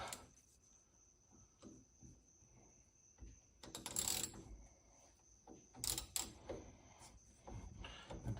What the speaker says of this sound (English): A 9/16 socket on the underside should loosen this guy up.